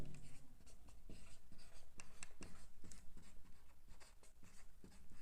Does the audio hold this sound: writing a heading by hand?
yes